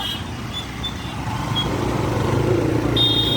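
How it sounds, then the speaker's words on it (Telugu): Road traffic passes near a college on a busy town road, a steady low rumble of vehicles with a few short, high horn or beep tones on top. "ఎక్కడ చూసినా ట్రాఫిక్"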